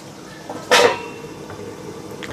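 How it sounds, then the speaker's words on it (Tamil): A lid is set down onto a pot of simmering fish kuzhambu with a single short metallic clank, close and distinct against a quiet kitchen background. "இப்போ ஒரு 5 நிமிஷம் வரைக்கும் நம்ம மூடி போட்டு வச்சிடலாம்."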